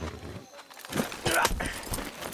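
Horse hooves clip-clop in the video game Far Cry 6, an uneven run of close hoofbeats with a short pause partway through, under some faint game noise.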